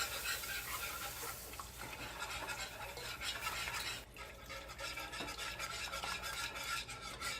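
A whisk stirs milk into a roux for cannabutter mac and cheese, a steady close scraping and swishing against the pan that runs continuously with brief changes in stroke, no talking.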